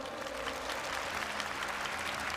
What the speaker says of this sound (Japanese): 助けてくれる方、拍手をお願いします。